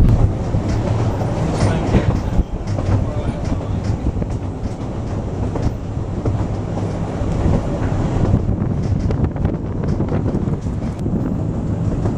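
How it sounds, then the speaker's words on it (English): A Welsh Highland Railway train climbing through Beddgelert Forest toward Rhyd Ddu, a loud, steady rumble of carriages with rhythmic clickety-clack of wheels on rail joints and some wind buffeting on the microphone throughout. "the train continues to climb up through Bedgellert Forest and on its way to Rhyd Du"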